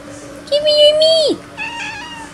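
A house cat meows loudly while trying to steal food at a table, one long rising-and-falling meow followed by a shorter, softer second call, close to the listener.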